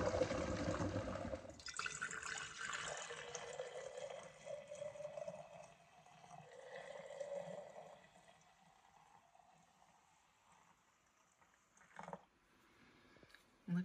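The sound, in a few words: bone broth being strained and poured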